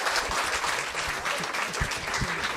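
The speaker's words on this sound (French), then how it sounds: "Un tonnerre d'applaudissements" Audience applause at a manga-themed comedy night, a steady wash of clapping from a crowd, moderately loud and continuous for a couple of seconds.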